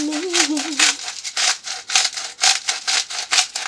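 An old salt grinder is twisted in short repeated gritty grinding strokes, close and fairly loud, with a brief faint voice-like tone at the start.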